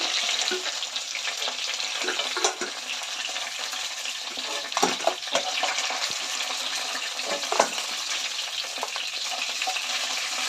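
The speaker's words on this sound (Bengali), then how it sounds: "মাছের মাথাগুলো ভাজা হয়ে গেছে এগুলো আমি তুলে নিচ্ছি" Fish heads frying in hot oil for a Bengali fish-head dish make a steady, dense sizzle and crackle throughout, with a few louder spattering bursts and no talking.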